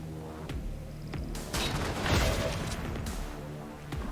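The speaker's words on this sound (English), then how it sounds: "There's heavy fire in this zone." Heavy gunfire in the XCOM 2 video game: a dense, continuous barrage of overlapping shots and booms crackling for several seconds, with sharp bursts spiking through a constant rumble and no talk over it.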